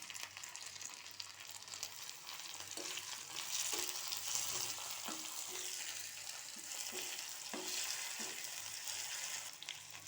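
Chopped raw tomatoes frying with browned onions in a pan for mutton paya soup, a soft continuous sizzle with occasional stirring scrapes, fairly quiet and close.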